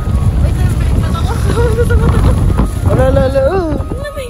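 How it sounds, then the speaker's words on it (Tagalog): Strong, cold wind buffets the microphone outdoors in a steady loud rush, while people talk over it. "Lakas na ng hangin."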